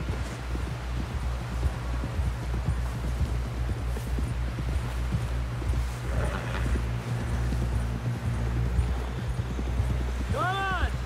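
Horse hooves clatter in a steady rhythmic clip-clop in a Red Dead Redemption 2 game scene, close and continuous beneath a low droning score, with a brief whinny-like call near the end.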